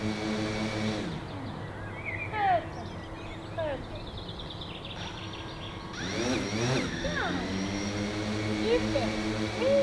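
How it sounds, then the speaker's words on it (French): Steady whirring drone of spinning drone motors and propellers with harmonic hum, rising and falling in pitch, close by and continuous, with occasional faint chirps, in Ladakh. "On est parti pour la mise en route des hélices"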